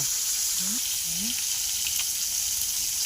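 A 1.5 kg silver carp fries in hot oil over an outdoor earthen stove, giving a loud, continuous close sizzle, while a brief voice sounds faintly underneath.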